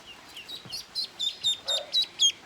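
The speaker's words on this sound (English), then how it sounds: "This is the third little duck." A young yellowish duckling peeps in a quick series of about eight high, sharp chirps, rising in loudness and close by, with a faint rustle between the calls.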